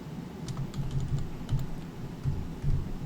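Calculator buttons pressed in a quick, uneven series of soft close-up clicks and taps, with short pauses between bursts and no talk.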